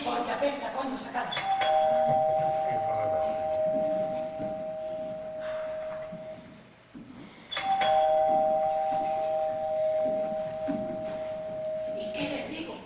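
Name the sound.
doorbell ringing in theatre play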